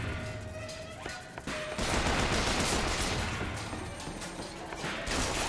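Sustained machine gun fire from BioShock Infinite, a dense, steady rattle that fills most of the clip at medium loudness, with a faint high beeping tone now and then.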